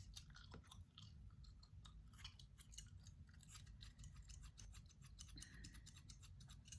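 Scissors snipping synthetic wig hair during a cut and styling, a steady run of soft close snips over a low constant background hum, with small crisp clicks growing busier toward the end.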